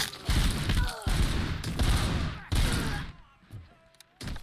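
Shotgun gunfire in the video game Robocop: Rogue City, several loud blasts with rumbling tails in quick succession, then a brief quieter gap before another blast.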